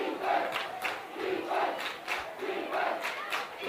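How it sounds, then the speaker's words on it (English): Students cheer at a high-school boys lacrosse championship game, a crowd chanting in rhythmic, rising and falling waves, moderately distant and steady. "The Brighton students trying to cheer on this Brighton Bengals squad."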